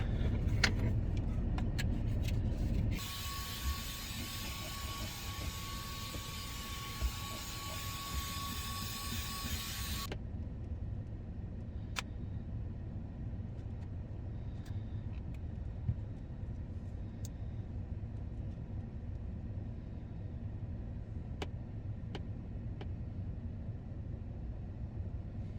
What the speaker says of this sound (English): It's a great bit of kit, this, the Opolar vacuum and compressor.